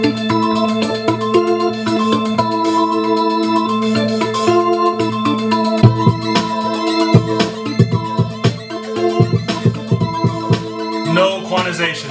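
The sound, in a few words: hip-hop beat made in GarageBand on a phone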